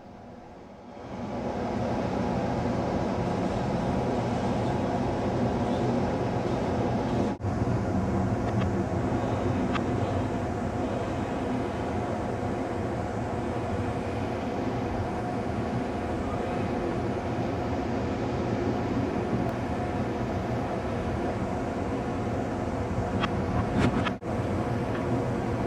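Inside the Coast Starlight's parlor car, a deep, steady rumble fills a tunnel passage and holds loud and even throughout. Brief clunks and rattles break the drone now and then.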